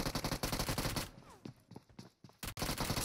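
Rapid bursts of P90 submachine gun fire in a mobile shooter game played on an iPhone 15, loud and close, with a brief lull of scattered shots before a final hard burst.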